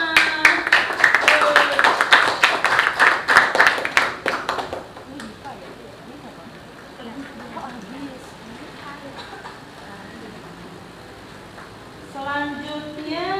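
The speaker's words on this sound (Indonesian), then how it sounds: "Beri tepuk tangan untuk Bunga." A small group claps for a pupil in a classroom, sharp uneven claps for about four seconds that then stop, leaving quiet room noise before a voice speaks at the end.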